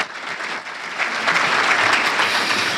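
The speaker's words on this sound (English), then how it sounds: "So some applause again for Joe Bevilacqua and the Merrimack Valley Chamber" Audience applause fills an awards ceremony hall for a small business awards event, steady dense clapping throughout, fairly loud and close with no talking over it.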